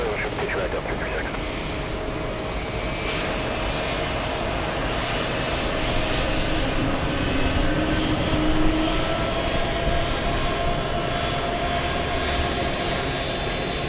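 A JetBlue jet airliner at JFK airport sounds a steady, loud engine roar that holds for the whole stretch, swelling slightly midway, with a faint radio voice heard early on.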